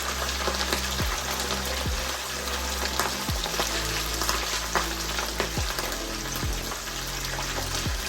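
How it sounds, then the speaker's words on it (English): Fish frying Jamaican style in oil in a pot makes a steady, dense crackling sizzle from start to finish, with a few faint clinks over it. "I'm just going to fry my fish as is."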